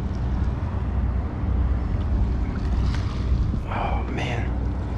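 Small waves from passing boat wakes slapping against the hull of a fishing boat out on the water while sheepshead fishing, a steady wash under wind noise with a couple of brief voices near the end.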